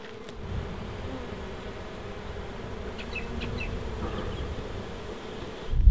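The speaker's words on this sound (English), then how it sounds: "Catch yourself a pod of bees." Steady low buzzing of a wild honeybee swarm, a continuous drone close by with a few brief higher chirps drifting in.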